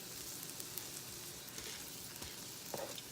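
A smashed beef patty with onions sizzles on a hot griddle, giving a faint, even hiss with small crackles and one brief scrape near the end; no voices.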